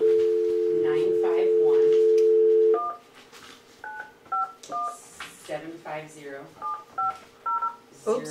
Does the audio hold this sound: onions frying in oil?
no